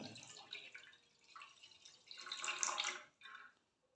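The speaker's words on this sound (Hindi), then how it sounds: "सबसे पहले इसमें 1 गिलास हम पानी डालेंगे।" Water poured from a glass into a cooking pot for a cough and cold remedy, splashing and trickling in uneven bursts that swell and fade, fairly faint and close, with no talk.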